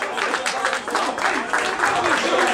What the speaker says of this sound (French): sous l'applaudissement, s'il vous plaît